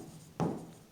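Chalk or a marker scratches across a board during a lesson, producing a single short, close stroke that rises and fades, followed by the start of another stroke at the end.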